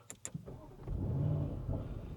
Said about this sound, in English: Let's also start up the car. We're going to put it in dynamic and just listen to it for a second.